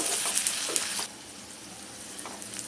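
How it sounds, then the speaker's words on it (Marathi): Ginger garlic paste sizzling and being stirred in a frying pan while cooking egg bhaji, loud crackling hiss with a few scraping strokes in the first second, then a softer steady sizzle. "आता आपलं आलं लसूण पेस्ट, आलं लसूण पेस्ट चांगली ही परतायची आहे"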